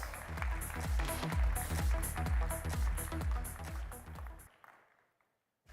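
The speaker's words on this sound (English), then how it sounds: "Give them a loud round of applause." An audience at a Rotary Institute event gives a loud round of applause, a dense sustained clapping with some rhythmic pulsing that stops abruptly near the end, leaving near silence.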